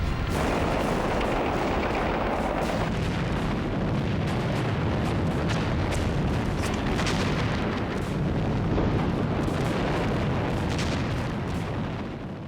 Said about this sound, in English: Then a hurricane of Japanese fire swept over them.